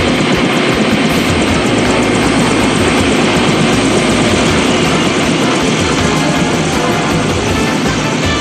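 A hijacked helicopter lifts off in an anime scene, its rotor and engine making a loud, steady, dense roar that stays constant throughout with no voices.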